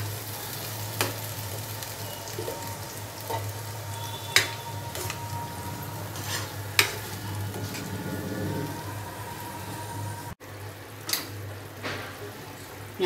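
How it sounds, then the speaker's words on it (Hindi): Masala paste sautéing in a pan for green chicken gravy: a continuous close sizzle and bubbling with occasional sharp spoon clinks, and no one speaking. "इस मसाले को हमें थोड़ी देर तक अच्छे से भूनना है।"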